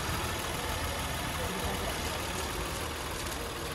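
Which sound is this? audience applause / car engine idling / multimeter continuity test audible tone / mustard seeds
car engine idling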